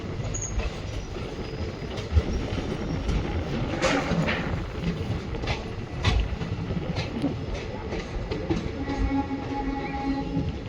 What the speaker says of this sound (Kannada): ನಮ್ಮ ಟ್ರೈನ್ ಬಂದೈತ್ರಿ ಈಗ ಚಿತ್ರದುರ್ಗಗೆ